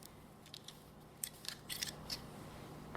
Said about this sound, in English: So we're gonna go ahead and cut this lace around, and hopefully I don't cut too much.